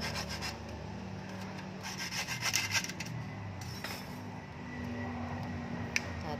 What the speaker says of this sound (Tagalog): patuloy lang sa paglagari hanggang matanggal yung plastic